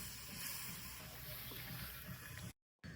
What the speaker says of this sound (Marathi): तर थोडासा ना मी आता पाणी ओतून घेतोय